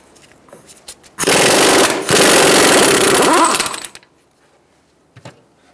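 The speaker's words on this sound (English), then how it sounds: "using a 32mm axle nut socket, I'm going to take off this nut" A loud burst of impact-wrench rattling spins a 32mm socket on the front CV axle nut of a 2012-2017 Hyundai Accent 1.6L, lasting about three seconds between quiet garage moments with a faint clank afterward.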